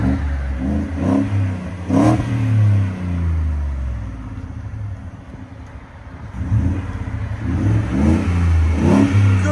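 Loud, deep truck exhaust revving up close, several rising blips of the engine with rumbling idle between them, alone with no talk over it.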